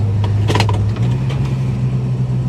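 A 1973 Plymouth Scamp, a flood-damaged car, with its engine running at a steady idle, a low continuous rumble heard close with a slight bump in revs early on, no talking.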